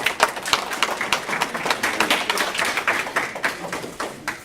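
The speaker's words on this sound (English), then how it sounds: "How about another round of applause for all of our presenters?" An audience claps for a round of presenters at a conference event, a dense, steady run of close hand claps with sharp individual slaps, lasting several seconds with little talk.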